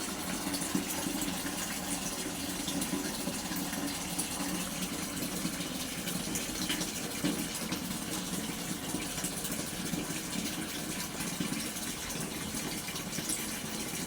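Water gushes steadily from a coin-operated piso vending machine as it fills a container, running for the timed interval set on its timer, with a constant pump-like hum throughout and no voices.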